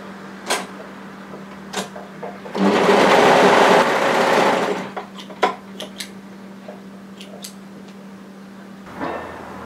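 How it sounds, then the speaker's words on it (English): An overlocker stitches two main layers of knit fabric together for a cardigan, a steady whirring run of about two seconds set between scattered clicks and taps of handling the machine and fabric. "what we're doing is overlocking just the two main layers together for that first inch"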